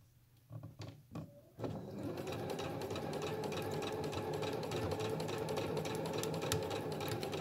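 Several short taps and clunks come first, then a sewing machine starts up and runs in a steady, close, fast whir as it stitches fabric wipes, continuing to the end.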